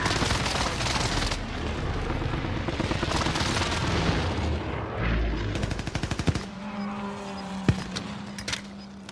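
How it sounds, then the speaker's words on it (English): Precision airstrike in Call of Duty Modern Warfare multiplayer: a dense, continuous barrage of booming impacts and gunfire, then a quick stutter of rapid cracks and a few sharp isolated bangs amid lingering rumble. "Precision airstrike inbound."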